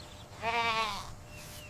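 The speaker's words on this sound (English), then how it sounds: "This is a goat." A goat gives one clear, wavering bleat lasting under a second, close and alone against a quiet background.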